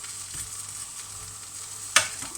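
Fermented soybean discs (thua nao) grill over heat for chili paste, giving a soft steady sizzle with a brief sharp crackle near the end.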